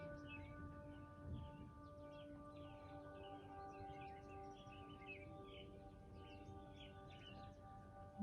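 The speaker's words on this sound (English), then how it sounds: "Birds are chirping." Faint birds chirp and tweet in scattered short bursts during falling rain over a steady low background hum, distant and quiet.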